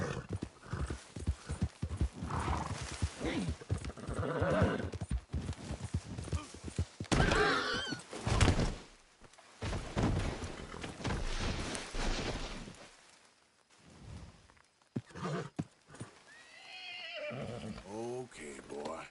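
Horse riding in Red Dead Redemption 2: rapid hoofbeats and a loud neigh, with a whinny near the end, while someone talks over much of the ride.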